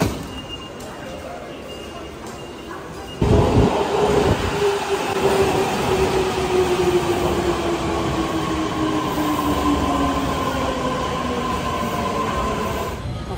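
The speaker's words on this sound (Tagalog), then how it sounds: "Ngayon, pasok na tayo guys ng train. Magte-train ulit tayo papuntang Hakata." Onboard a train in Fukuoka, Japan, bound for Hakata: a quiet carriage hum at first, then a loud surge of rolling rumble with a long descending motor whine as the train pulls away, steady to the end.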